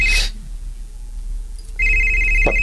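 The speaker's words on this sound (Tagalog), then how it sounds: "Ang akong cellphone." A cellphone ringtone chirps once sharply at the start, then after a quiet pause returns as a steady, loud electronic tone that holds to the end, broken by a brief click.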